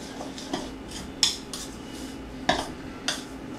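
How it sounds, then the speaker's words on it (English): Dry waffle ingredients mixed in a bowl with a utensil, several light clinks and taps against the bowl at irregular intervals over a quiet background, no talking. "Let's mix all the dry ingredients together"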